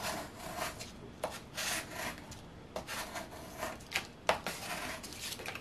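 A scraper presses and rubs transfer tape down onto craft vinyl in short, close scraping strokes with brief pauses between passes, fairly quiet with no talking.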